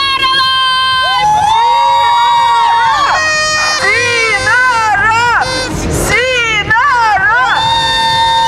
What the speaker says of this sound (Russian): Шумят, кричат, размахивают плакатами